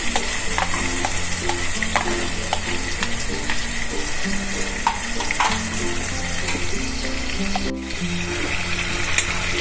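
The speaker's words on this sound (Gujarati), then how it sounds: "ટમેટાની ગ્રેવી કરીને રાખી દીધી છે તો એ પણ આપણે આમાં ઉમેરી દઈશું" Tomato gravy is stirred into browned onion gravy for dum aloo over a high gas flame. A steady, loud sizzle of frying runs throughout, with frequent scraping and clicks from the stirring spoon.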